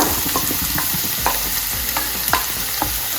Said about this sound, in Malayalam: ഇത് നന്നായിട്ട് ഇളക്കിയിട്ട് കൊടുക്കുക വയണ്ട് വരണം